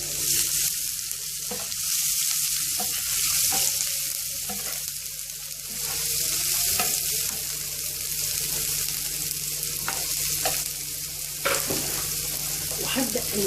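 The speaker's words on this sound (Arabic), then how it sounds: "حطيت معلقه سمن وبصلايه مقطعه تكون كبيره او تكون صغيره" Chopped onion fries in a spoonful of ghee. A steady, close sizzle runs throughout, with occasional stirring clicks and no voices.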